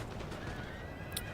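A cavalry horse from a Hussar unit neighs in a Napoleon: Total War battle. The short whinny rises over a busy din of battle noise.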